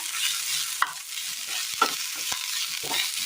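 Steady, loud sizzling of freshly washed, wet leaves frying and wilting in hot oil for chutney, with a few brief stirring clacks and bursts of crackle, no voices.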